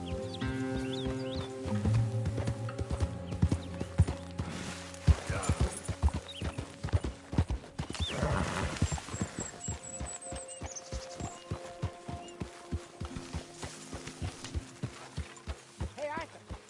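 Horse hooves clop in a steady, brisk rhythm in the Red Dead Redemption 2 video game on PS4, alongside other game sounds, with character dialogue heard over the hoofbeats.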